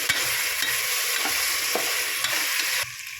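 Mutton being stirred in a pan with ginger garlic paste and chilli: a steady hiss of sizzling with repeated scraping strokes of a spoon, close and continuous, easing slightly at the end.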